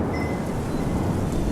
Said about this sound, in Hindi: कुछ दिनों बाद बरसात शुरू हो जाती है।